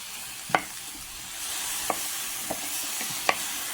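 Soft hiss of fresh garlic frying in a pan with a few sharp clicks and taps of a utensil, no voices.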